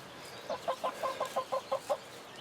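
A hen, likely one of a small backyard flock including a leghorn and a lavender hen, gives a quick run of about nine soft, evenly spaced clucks at moderate distance, with no talking over it.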